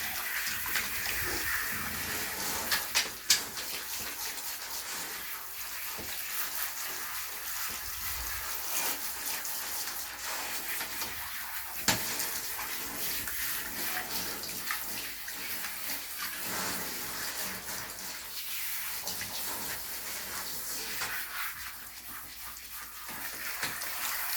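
Water runs steadily from a tap or shower as shampoo is rinsed off a dog in a bath at home, a continuous close hiss and splash with slight variations and a couple of small knocks.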